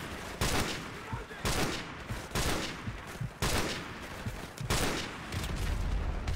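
Gunfire in a video game rings out in repeated loud bursts and volleys about every second, sustained rattling shots filling the whole stretch with no voices over it.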